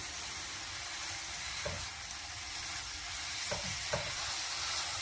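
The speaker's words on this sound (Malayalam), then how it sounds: "ഇനി ഇതിലേക്ക് കോക്കനട്ട് ചേർക്കുകയാണ്. നന്നായിട്ട് ഇളക്കി യോജിപ്പിക്കുക." Grated coconut is stirred into bubbling sugar syrup in a pan for coconut candy, a steady close sizzle with a few soft scraping knocks of the spoon.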